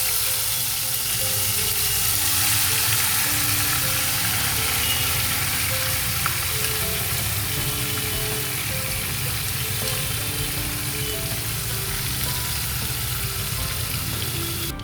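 Marinated chicken fries in oil spiced with cloves, a dried red chilli and bay leaves for a Bengali chicken biryani. A constant, dense sizzle runs evenly throughout, with faint clicks of stirring and no voices.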